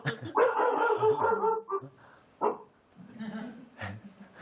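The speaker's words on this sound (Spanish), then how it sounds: "perdón, está por ahí mi perro. Se ha colado el perrito." A small pet dog barks in short yips and bursts indoors during a live news broadcast, the barking loud and mixed in with people talking.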